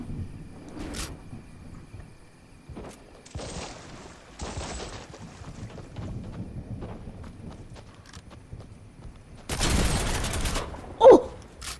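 Dragon's Breath shotgun fire in Fortnite, loud broadband blasts heard in a few bursts amid footsteps and game noise, with one sharp peak near the end.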